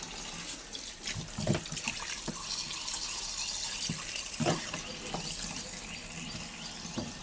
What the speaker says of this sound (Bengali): গরম পানি একটু ঠান্ডা পানি মিক্স করে আমি এগুলো ধুবো।